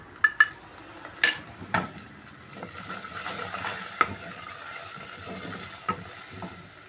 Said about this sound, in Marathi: आता आपला हा कांदा व्यवस्थित भाजत आला आहे